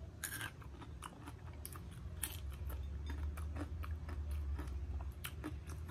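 Close, crisp crunching of someone chewing crispy fried food, repeated bites in an uneven rhythm over a low background hum.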